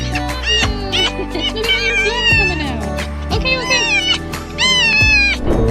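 A cat meows loudly and repeatedly, with drawn-out, wavering cries that come close together.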